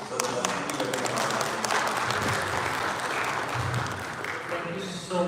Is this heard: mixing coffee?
no